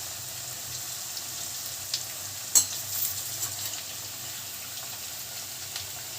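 Jackfruit pakoras frying in hot oil over high heat, a steady soft sizzle with a few faint clinks, fairly quiet throughout.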